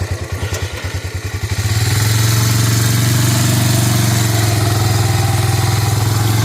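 A 1986 Honda Big Red ATV engine chugs with a rhythmic low putter, then revs up into a loud, steady drone as it hauls up a small incline during forestry work.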